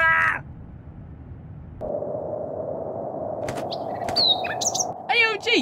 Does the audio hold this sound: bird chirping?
yes